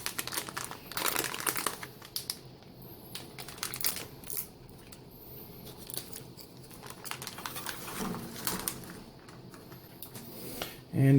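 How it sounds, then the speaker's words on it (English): Plastic raisin pouch from a 2010 Ameriqual Humanitarian Daily Ration being torn open at its side notch, with steady close crinkling and crackling of the wrapper throughout and a louder rustle at the end. "let's get our raisins opened up. Got ourselves a little tear notch here on the side."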